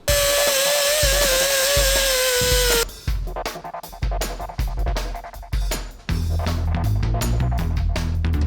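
A diamond saw blade cuts steel for a Helix 4-link suspension crossmember, a loud, steady whining grind for about three seconds, then breaking into bursts of uneven cutting and clattering handling noise.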